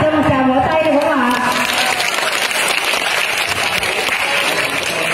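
Audience at a Vietnamese high school event applauding, a loud sustained wash of clapping that follows a voice at the start and holds steady to the end.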